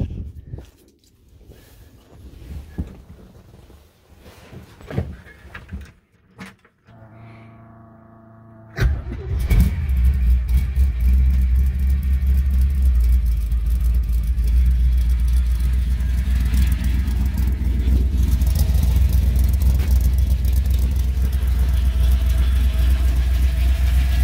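A 1955 Chevy gasser on Raider slicks fires up partway through, settling into a loud, close, steady engine rumble with revs rising and falling for the rest of the clip after a quiet, shuffling start.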